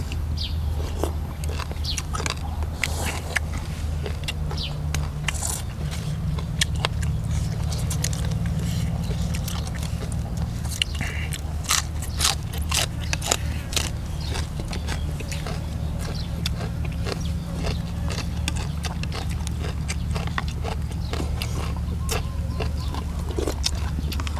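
Khao pun rice noodles with free-range chicken curry being eaten close to the microphone: continuous soft slurping and chewing with scattered clicks, over a low steady hum and faint background voices.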